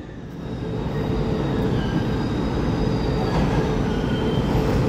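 A twelve-car EMU3000 Tze-Chiang express train in red livery passes on a Taiwan railway line, its heavy rumble and wheel noise swelling quickly and then holding loud and steady.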